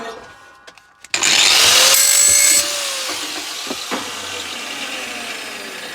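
Power tool cutting a stainless steel scrap part from an electric mop, a loud close grinding whine that starts abruptly after brief clatter, holds for about two seconds, then drops to a quieter ringing rasp with knocks.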